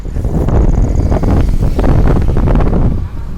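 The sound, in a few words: wind noise while riding a bicycle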